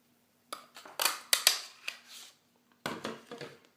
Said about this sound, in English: I'm going to punch it out with the 2-inch extra large oval punch